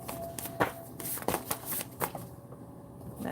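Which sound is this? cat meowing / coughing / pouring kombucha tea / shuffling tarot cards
shuffling tarot cards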